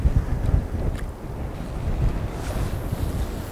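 Strong wind blowing across open water while fishing from a boat, buffeting the microphone with a loud, continuous low roar and gusty swells, no voices.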